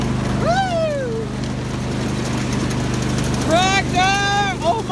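A tractor engine runs steadily in the foreground, a low continuous drone throughout, with a voice shouting excitedly over it.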